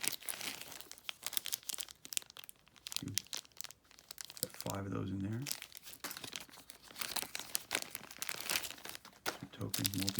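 Plastic bags of multicolored board game tokens and cubes crinkle and rustle loudly up close as they're handled and opened, with a person talking over the crackling.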